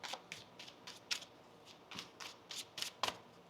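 A deck of tarot cards is shuffled by hand up close, giving a quick run of crisp riffling bursts and soft slaps, about a dozen in irregular rhythm.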